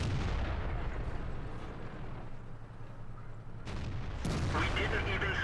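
Tank cannon fire in World of Tanks, a heavy low rumble of battle ambience building to a sudden sharp boom near the end with a ringing tail, with a voice talking faintly underneath.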